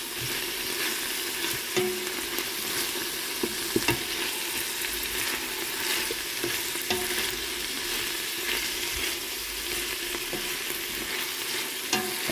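Garlic and scallions sauté in a pan with a constant bright sizzle, broken by repeated scraping and tapping as a utensil stirs them, close and without talk.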